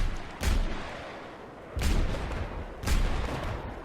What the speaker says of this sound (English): You have 6 rockets of which you can fire.